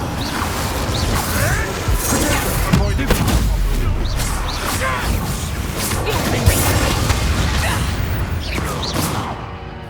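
Spell casting and explosions in Hogwarts Legacy: a continuous, loud mix of crashes, whooshes, mechanical clatter and booming impacts, with a voice intermittently speaking over the chaotic combat.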